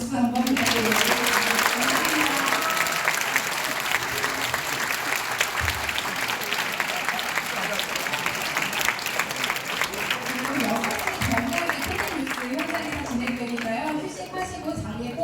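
A large audience at a talk concert applauds continuously, dense clapping that stays loud throughout, with crowd noise and some voices mixed in.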